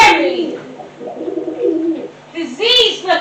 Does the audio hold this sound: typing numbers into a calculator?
no